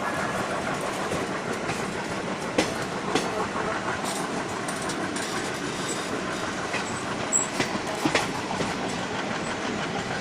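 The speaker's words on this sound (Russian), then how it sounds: "Нам сзади подсоединился еще один локомотив для того, чтобы толкать поезд вверх" A long train of about thirty cars climbs uphill with an extra pusher locomotive at the rear, a rumbling, rhythmic clatter of wheels and occasional sharper clanks, loud and continuous throughout.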